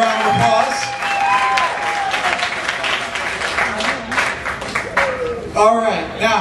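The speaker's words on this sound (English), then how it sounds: "Let's give them a big round of applause." Audience applause at a party event, sustained clapping and a few whoops from a crowd, with voices speaking over it near the end.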